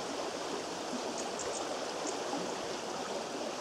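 Rainwater from roof gutters runs down a drain pipe and seeps through rocks into a garden pond, making a continuous close rushing trickle of flowing water at a steady level, with no talking.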